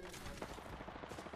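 Rapid automatic gunfire in the video game Apex Legends comes as a quick run of quiet, evenly spaced shots during a team fight.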